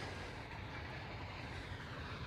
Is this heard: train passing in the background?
yes